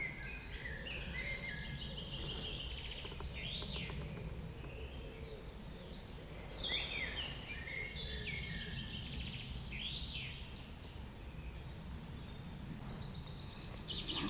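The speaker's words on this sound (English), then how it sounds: "Birds are quite loud here." Spring birdsong fills a wood in Kent, several birds chirping and warbling at once at moderate distance over a steady outdoor background, with no talking.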